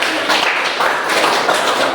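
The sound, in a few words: class applause for group 1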